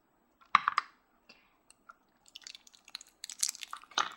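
Scissors snip through duct tape wrapped around a straw in a close, quiet crafting setting, a few sharp crisp cuts and crackles separated by silence, with a cluster of crunchy snips near the end.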